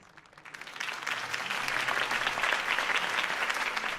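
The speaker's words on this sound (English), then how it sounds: "could have heard that applause" An audience applauds after a campaign speech at a rally, steady clapping from a crowd that builds quickly and keeps going loud and close.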